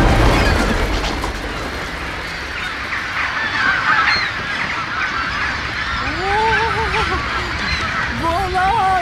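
Film scene of geese or similar fowl honking loudly and flapping off, repeated nasal honks rising over a dense rush of wings and commotion, close and busy.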